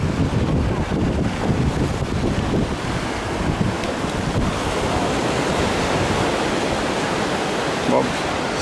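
Sea waves roll and break on the beach at Alanya, Turkey, in a continuous loud wash of surf with heavy wind buffeting the microphone, and a voice is faintly heard beneath the roar.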